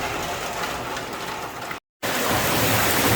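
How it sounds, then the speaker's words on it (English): Steady rain falling on a Thai house under renovation where a new drain is being tested: a dense, even hiss that briefly cuts out, then resumes just as strong. "It started raining."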